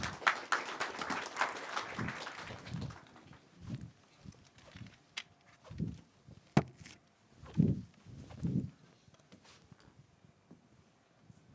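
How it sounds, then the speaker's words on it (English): A talk audience gives a brief burst of applause that quickly fades into scattered claps, followed by sparse thumps and shuffling movement in a quiet room. "So yeah, let's give a round of applause for Geshan."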